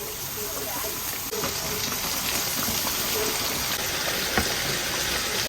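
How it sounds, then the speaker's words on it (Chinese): Hot oil sizzles and crackles continuously as a whole coated chicken deep-fries for the second time, a dense, steady hiss with small pops throughout. "油热，第二遍下锅。"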